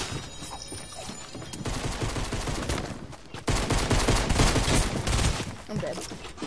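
Assault rifle gunfire in Fortnite rattles out in dense, rapid bursts that build louder midway and keep firing, mixed with other game noise and a voice talking over the shooting.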